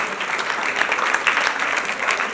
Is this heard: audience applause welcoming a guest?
yes